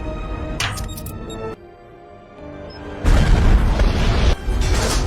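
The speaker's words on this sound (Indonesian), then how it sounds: "akibat ledakan barusan" An explosive arrow from Hawkeye detonates against an aircraft in an Avengers film, a deep booming blast with heavy low rumble that swells and sustains over several seconds amid soundtrack and action noise.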